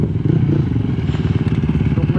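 A motocross motorcycle engine rumbles loud and close for the whole stretch, a steady low throaty drone with a quick pulsing rhythm, on a muddy dirt track, with faint clatter underneath.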